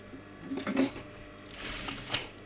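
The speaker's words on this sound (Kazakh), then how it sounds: "Осымен қазір тігеміз замокты." Sewing machine fitted with a one-sided zipper foot stitches in a zipper while making a skirt, two short bursts of running separated by a brief pause, moderately close with no talking.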